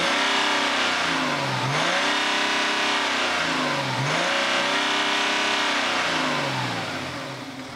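A 2014 BMW 750d xDrive diesel engine revs repeatedly, rising and dropping in two or three smooth sweeps, fairly loud and close with a steady mechanical hum between, fading slightly at the end.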